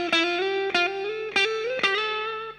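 Distorted electric guitar playing the solo, four picked notes each bending or sliding upward in a steady, loud, sustained line with no voices.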